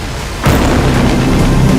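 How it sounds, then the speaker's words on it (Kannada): A bomb blast in an air strike on Tehran hits with a sudden heavy boom, then a dense roaring rumble that sustains loudly without fading. "ಈ ಘೋರ ಸ್ಫೋಟ ಸಣ್ಣ ಉದಾಹರಣೆಯಷ್ಟೇ"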